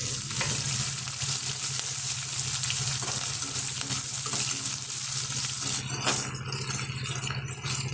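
Garlic-ginger paste with curry leaves sizzles in hot oil in a pan, a steady close frying hiss with light stirring rattles throughout, no one speaking.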